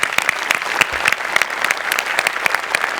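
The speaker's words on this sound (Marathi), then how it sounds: "तुझ्याकरता एकदा खरोखर मनापासून टाळ्या." Brisk, close applause from a studio audience on a Marathi comedy show, many hands clapping in a dense, lively patter for a few seconds.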